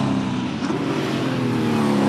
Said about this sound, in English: And down towards the final set of turns comes the Big Falcon, still being chased by Barrow in a much more modern Holden out there.